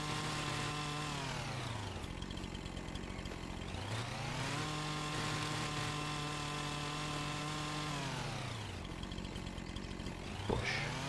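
Chainsaw in the Farming Simulator 25 video game cutting tree stumps with a lumberjack mod, engine revving up into sustained high whines and dropping back to idle in repeated cycles, loud and close.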